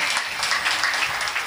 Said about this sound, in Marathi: क्या बात आहे, जोरदार टाळ्या.